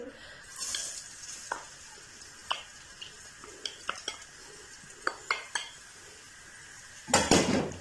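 Finely chopped garlic frying in oil with a soft, steady sizzle, broken by scattered clinks of a utensil stirring against the pan and a louder scrape near the end.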